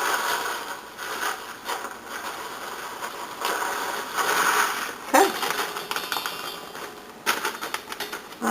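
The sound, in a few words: pouring sliced almonds into a bowl for granola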